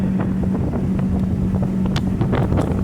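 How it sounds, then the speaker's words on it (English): Wind roars and buffets across the microphone on a moving 2022 Suntracker 18-foot bass buggy boat with a 75 hp Mercury four-stroke outboard, a loud continuous rush with the engine drone beneath and no speech. "the wind's a real problem"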